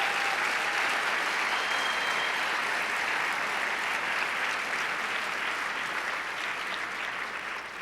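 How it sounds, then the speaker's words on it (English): A large audience at a high school speech state finals event gives sustained, dense applause that stays loud and even throughout, tapering slightly at the very end. "please give a huge round of applause to all of those people that helped make this happen"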